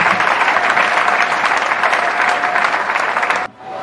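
Loud, sustained applause from a crowd at a memorial tribute for a patriarch, steady and dense for several seconds before cutting off abruptly near the end.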